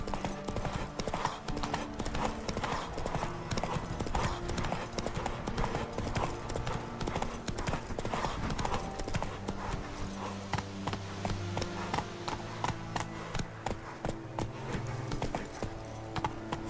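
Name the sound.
horse Roach galloping in The Witcher 3 video game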